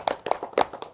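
A group claps together in a rhythmic clapping routine during a community meeting, producing several sharp, close hand claps in a quick patterned sequence, about four distinct hits within a second.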